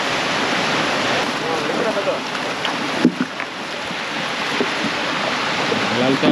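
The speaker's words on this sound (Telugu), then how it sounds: "ఈ తెప్ప నుంచి మోటార్ ఉన్న తెప్ప మీదకి వెళ్తాం బీచ్లోని" A motor boat runs out to sea from a beach on a fishing trip, giving a steady, loud wash of engine and rushing water throughout, with faint voices beneath and a few brief knocks.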